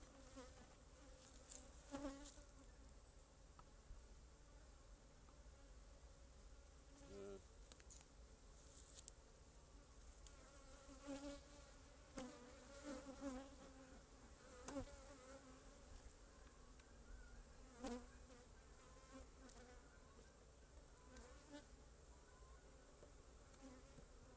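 Bees swarm and buzz around an open beehive in a savanna apiary during a hive inspection, a steady dense drone with occasional closer passes and faint handling clicks.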